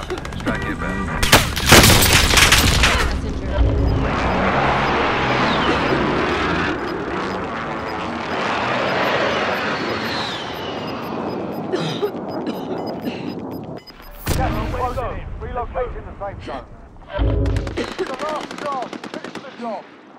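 Loud bursts of automatic gunfire and single shots crack during a Call of Duty: Warzone battle royale match in Verdansk, mixed with explosions, engine rumble and players talking.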